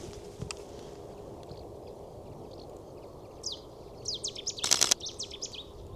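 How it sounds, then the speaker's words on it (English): Birds call at sunrise in Dutch wetlands, with a few faint distant chirps and a brief cluster of sharper, high calls near the end over a soft, steady ambient hush. "I hear a lot of birds, but I don't see any."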